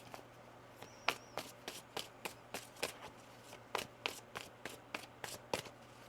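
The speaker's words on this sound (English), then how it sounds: "One more shuffle." Tarot cards being shuffled by hand, a series of crisp, evenly spaced taps and riffles, close and fairly quiet, with no talking.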